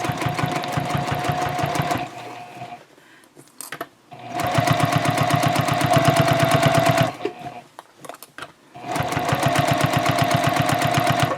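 A sewing machine stitches the bottom edges of tote bag panels in three loud, steady runs of rapid needle strokes, separated by brief pauses with faint handling noise.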